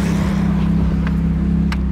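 A Ferrari sports car's engine and exhaust drone loud, steady and close in Gramado, Brazil, with a few brief higher-pitched bursts over the constant low roar.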